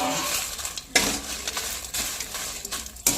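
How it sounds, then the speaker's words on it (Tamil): Dried red chilies poured into a pan for dry roasting while making idli chili powder, giving a close rattling clatter of pods hitting the metal in several bursts, with no talking. "இப்போ இதோடய நம்ம மிச்சம் இருக்க மிளகாயும் கொட்டி வறுத்துக்குவோம்"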